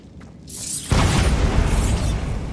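A Bombarda spell goes off in Hogwarts Legacy as a sudden loud booming explosion after a brief mechanical buildup, followed by a sustained rumbling roar of debris.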